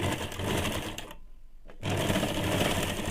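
A sewing machine stitches elastic onto the waistband strip of a ladies' pant with a fast, loud, steady whir, stops for about half a second, then starts again at the same pace.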